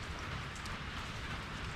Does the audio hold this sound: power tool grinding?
no